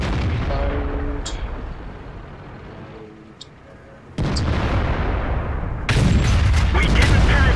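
In a tank video game, heavy cannon shots boom out one after another over a constant engine rumble and clanking tracks. The blasts are loud and abrupt.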